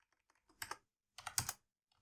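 Code being typed on a computer keyboard: two short bursts of quick key clicks, close and fairly loud, separated by a brief pause, with no voice.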